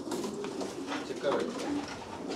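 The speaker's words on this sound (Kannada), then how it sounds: "ನೋಡಿ ಇದೊಂದು ಬರ್ಡ್" Homing pigeons cooing softly in a loft, with low throaty calls running through the short stretch under a voice talking.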